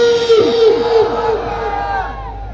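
A large crowd at a Jamiat Ulema-e-Islam political rally chants slogans loudly in unison, a sustained roar of many voices answering a leader's call, rising and then slowly tapering off.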